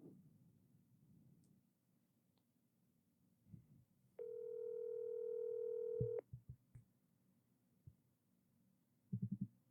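A single long telephone ringback tone rings for about two seconds after a call is placed, with low room rumble and a few soft clicks and thumps before and after it.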